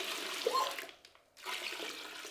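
Water poured into a bag of clay to rehydrate it, a rushing, splashing stream that briefly thins and stops, then resumes just as full, close by and alone.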